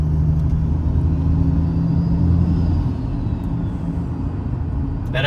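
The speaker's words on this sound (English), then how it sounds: "I've never had a car with ball bearing intake noise" A turbocharged Ford FG Falcon ute with a big ball bearing turbo idles and rumbles close by, a loud, low, steady engine drone with faint turbo intake hiss above it.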